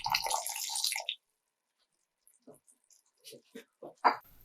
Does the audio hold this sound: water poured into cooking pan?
yes